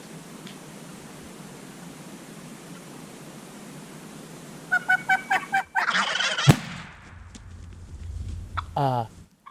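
Wild mountain turkeys gobble in a rapid series of loud calls during a hunt, preceded by hushed background hiss and followed by sharp noises and rustling.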